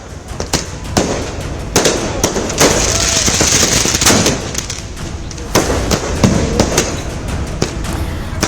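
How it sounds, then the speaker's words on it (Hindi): Firecrackers burst in rapid, irregular volleys at a street election-victory celebration in Maharashtra, sharp cracks overlapping a dense crackling roar that stays loud throughout. "यहाँ पर देखिए पटाखे जलाने लोग शुरू कर चुके हैं।"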